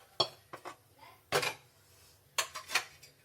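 Mushroom paste transferred onto a plate, with several light clinks and scrapes of dishes and utensils in short separate bursts, close and fairly quiet.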